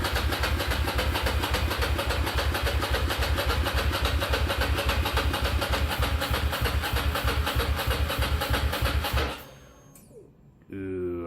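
The engine of a Ducati Monster motorcycle, being rebuilt as a cafe racer, runs loudly for its first start with a fast, even pulsing beat for about nine seconds, then cuts out, leaving quieter mechanical noises.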